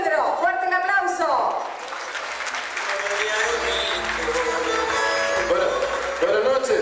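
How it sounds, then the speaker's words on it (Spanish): Crowd applause at a regional festival night rises beneath a presenter's amplified voice, steady clapping holding under the talk throughout. "fuerte el aplauso"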